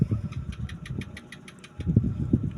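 A two-bladed electric fan runs hard. A steady, rumbling motor hum sits under a rapid, even train of light ticks, and the sound stays close and fairly quiet.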